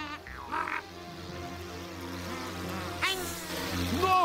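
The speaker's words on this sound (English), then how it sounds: "That thing is nothing but a mosquito, and you keep mosquitoes away with smoke." Mosquito-like insect buzzing in an animated comedy scene, a thin whining drone running continuously at moderate level with other tonal effects and music layered around it, no talking.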